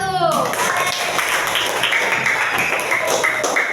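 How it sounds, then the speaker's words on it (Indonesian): A small class of students applauds a group after its presentation, giving a dense, steady patter of hand claps that follows a brief voice at the start and carries on evenly to the end. "Tepuk tangan untuk kelompok 1"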